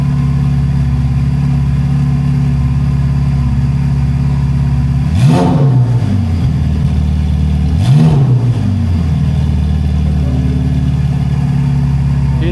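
A Ferrari 488 Pista fitted with a Kline Inconel exhaust, valves open, idles with a loud, steady drone and is blipped twice, each rev swelling briefly and falling back to idle.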